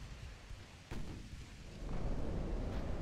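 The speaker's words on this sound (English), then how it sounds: "Main guns on the battleship, secondaries on the light escort there, the light cruiser." Battleship main guns fire in the naval game Ultimate Admiral Dreadnoughts. A sudden heavy boom breaks in, then a deeper, swelling rumble rolls in and holds, low and thunderous, with no speech over it.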